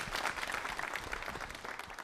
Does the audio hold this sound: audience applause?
yes